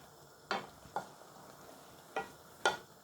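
Winter vegetables, eggplant and okra, cooking with dried fish in a pan are stirred, giving a few separate scraping strokes against a faint sizzle. The strokes come at irregular intervals, close by, with no talking.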